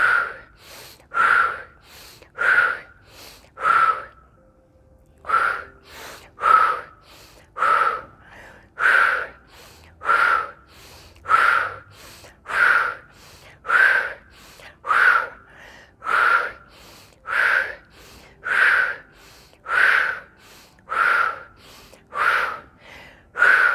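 Deep breaths are drawn in and released in a slow, even rhythm during a guided breathing exercise, each one close and clear. About fifteen regular cycles run back to back with no talking.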